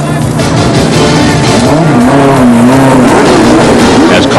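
A NASCAR-style race car slides out of the infield pit area at Queen City Speedway in 1986, its engine roaring loud and close with a rising, wavering pitch over dense crowd and track noise.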